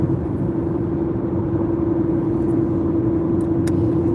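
A car engine hums steadily while driving, a low, even rumble with a constant tonal whine throughout and no talk over it.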